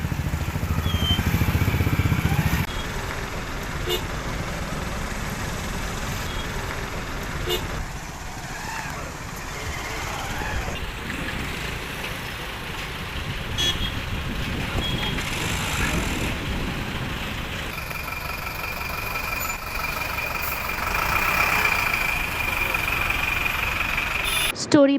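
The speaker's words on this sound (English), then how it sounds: "The resulting accident caused traffic congestion on the route." Congested highway traffic after an accident, with engines idling and vehicles rumbling nearby and passing by for a sustained stretch, alongside a brief louder burst at the start and background voices.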